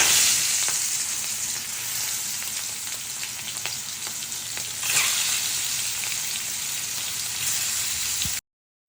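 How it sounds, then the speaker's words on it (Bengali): Shrimp frying lightly in a little oil in a wok, a steady close sizzle and crackle running throughout with faint stirring scrapes, then cutting off at the end. "এরপরে আমি কড়াইতে একটু তেল দিয়ে চিংড়ি মাছগুলোকে কিন্তু হালকা করে ভেজে নেব।"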